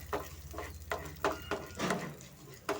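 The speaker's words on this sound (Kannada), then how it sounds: "ಅಲ್ಲಿವರೆಗೂ ಸ್ವಲ್ಪ ನಾವು ಫ್ರೈ ಮಾಡ್ಕೊಳ್ಳೋಣ" Urad dal fries in oil in a pan as a spoon stirs it, soft sizzling under a low hum with rhythmic scraping strokes about every half second, close and fairly quiet.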